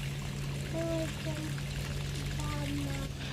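Water pours from a household tap in the early morning, a steady trickling stream under a voice, with a faint constant hum in the background.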